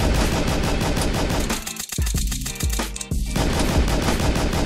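Rapid gunfire from a Pistol Whip–style virtual reality shooter game, dense loud repeated shots nearly continuous, with a brief stretch of separate booming blasts midway, no talking.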